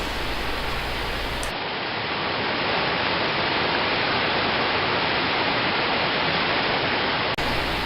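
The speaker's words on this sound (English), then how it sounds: "I just love the sound of that river." Loud, steady rushing of a river flowing past a backpacking campsite in Jay Cooke State Park, a dense broadband wash close by with no voices.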